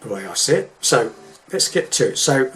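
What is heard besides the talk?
No everyday noises stand out.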